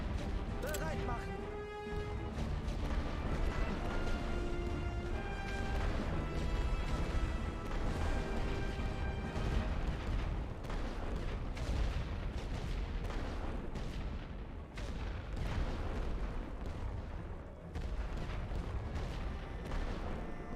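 Artillery barrage pounding an enemy machine-gun nest in the First World War strategy game The Great War: Western Front, a dense, continuous roar of blasts and crashes layered with game music and soldiers' voices.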